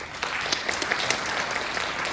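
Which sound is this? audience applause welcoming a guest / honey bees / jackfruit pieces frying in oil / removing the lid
audience applause welcoming a guest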